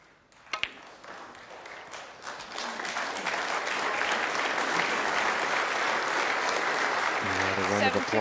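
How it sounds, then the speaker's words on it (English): A snooker audience breaks into applause after a frame at the UK Championship quarter final between Judd Trump and Mark Selby. A few sharp knocks come first, then clapping builds into sustained full applause that stays loud to the end. "Round of applause"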